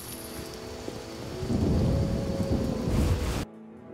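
Heavy night rain and a thunderstorm in The Witcher, a loud dense downpour swelling midway with rumbling thunder, then cutting off abruptly near the end.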